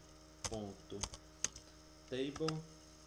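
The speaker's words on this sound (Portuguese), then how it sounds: "pressionar a tecla Tab no teclado do seu computador" Keys clicking on a computer keyboard, including a press of the Tab key, heard as a few separate sharp taps spread over a couple of seconds, close and fairly quiet over a low steady hum, with no talk.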